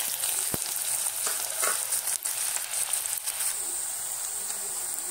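Onions hit hot oil with crackled cumin seeds in a pan for Kathiyawadi-style palak shaak, giving a steady close sizzle. Scraping stirs and clinks break through the frying now and then.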